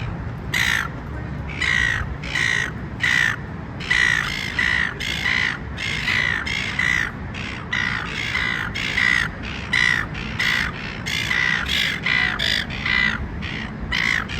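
Seagulls in a Sydney park calling noisily and repeatedly, a dense overlapping chorus of harsh squawks over a steady rumble of city background, close and continuous throughout.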